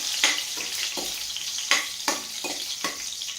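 Garlic and green chillies frying in a pan crackle with a steady hiss, broken by several sharp scraping stirs at irregular intervals, close up and with no voices.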